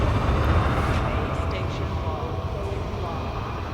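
A spaceship in Elite Dangerous launches with its landing gear going up, giving a steady, loud engine roar and rumble that holds throughout, with faint higher whirs layered on top.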